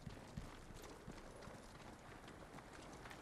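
Horse hooves clip-clopping at a steady, rapid pace in the video game Ghost of Tsushima, soft and fairly distant beneath a continuous hiss of background noise.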